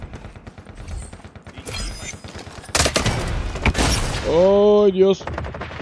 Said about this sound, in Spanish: nos estamos alejando del que nomás está disparando a lo menso